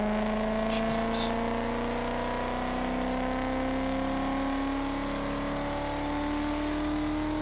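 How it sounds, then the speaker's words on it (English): A car engine in the racing game Need for Speed: World holds a loud, steady drone whose pitch rises slowly as it accelerates, close and continuous, with a voice briefly over it. "This car sounds like a lion"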